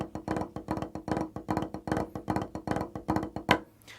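Snare drum playing unaccented cheese rudiments on Vic Firth sticks, a diddle with a grace note: a close, steady run of soft, even stick strokes in repeating clusters, ending with one sharper hit and a brief ring.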